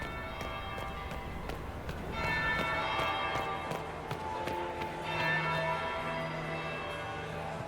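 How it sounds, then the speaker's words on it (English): A bell rings repeatedly in the fantasy video game Dragon Age Inquisition, its resonant tolls sounding over a busy background of footsteps and ambient clatter, moderately loud throughout. "That would be the second bell."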